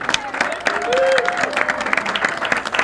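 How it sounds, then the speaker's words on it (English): A bowling tournament audience applauds bowler Dave Richards, a moderate patter of clapping from a modest crowd while a voice talks briefly over it. "a round of applause, if you would, for Dave Richards"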